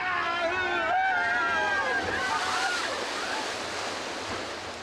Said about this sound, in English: you will notice a fleet of amphibious vehicles that were built during the Second World War